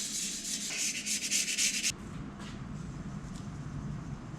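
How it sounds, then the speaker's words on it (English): 220-grit fine sandpaper scuffs a motorcycle brake disc on a Hayabusa front wheel, a loud, steady rasping rub for about two seconds that stops abruptly, leaving quiet room tone. "And you can scuff it up so you get a nice braking feel."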